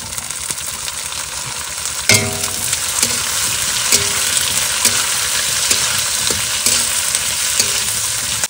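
Chopped tomato and chili hit a pan of lightly fried onion, garlic and ginger. A loud, continuous sizzle follows, punctuated by a burst of spattering and repeated knocks and scrapes of the stirring spoon.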